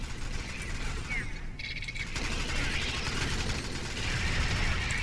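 An automatic turret firing in the Alien Swarm video game, a rapid, steady stream of shots over a low rumble, with a brief gap partway through before the firing resumes; no talk.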